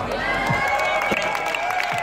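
Audience cheering and shouting at a student skills competition final, a sustained crowd roar with whoops and cries carrying steadily throughout.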